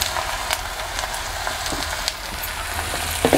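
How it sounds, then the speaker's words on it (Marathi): Chopped tomatoes sizzle and fry in a pan over sautéed garlic, a steady close crackling hiss with small stirring clicks, no talking. "आता आपण परतून घेतलेले आहे, त्यामध्ये आपण आता बारीक चिरलेले टोमॅटो घालूया"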